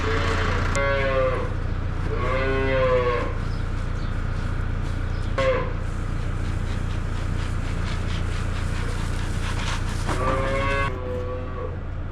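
Recently weaned calves bawl loudly at a farm during morning feeding, several long drawn-out moos close by over a steady low engine hum, with no talk.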